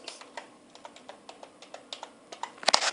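Steady typing on a computer keyboard, a run of close, crisp key clicks at an uneven rhythm, ending in a quick louder flurry, with no voices.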